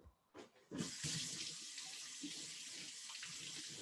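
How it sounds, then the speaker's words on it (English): A kitchen tap runs into a sink during handwashing, turning on after a couple of soft knocks into a steady, close hiss of flowing water with faint splashes, quiet overall. "I'm gonna wash my hands really quickly."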